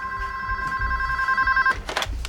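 A telephone rings with a steady electronic bell tone lasting most of a second and a half, fairly loud and close, then breaks off into brief rustling and handling sounds.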